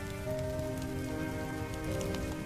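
Heavy rain pouring steadily onto a street, a dense continuous hiss of drops hitting surfaces with faint tonal music underneath and no speech.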